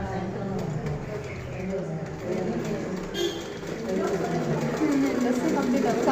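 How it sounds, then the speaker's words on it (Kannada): A sewing machine stitches along the edge of a folded fabric hem with a rapid, continuous mechanical whir, close and moderately loud. "ಇದನ್ನು ಅಷ್ಟೇ ತುದಿಗೆ ಹೊಲಿಗೆ ಹಾಕ್ಕೊಡಿ."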